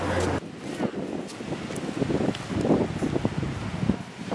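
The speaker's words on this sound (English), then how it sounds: "But it's so windy." Strong wind buffets outdoors in Marquette, with gusty rumbling and rustling that runs steadily through the whole stretch, loud and close to the microphone.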